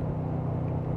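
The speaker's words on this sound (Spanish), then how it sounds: "así un acelerón como el que doy yo ahora" Mercedes-Benz G 63 AMG engine heard from inside the cabin, a steady loud low rumble with strong bass throughout, no clear rise in pitch.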